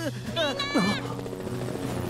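A cartoon helicopter in Robocar Poli gives off a steady, buzzing rotor hum under a character's lively talking voice.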